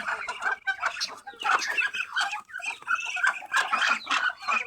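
Pet ducks being fed, clucking and quacking fowl calls crowd together in quick, overlapping bursts, close and fairly loud, with no talk.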